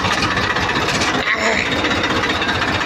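An old Mahindra tractor's engine runs close by in a steady, loud low rumble, holding constant for a few seconds with a slight waver midway.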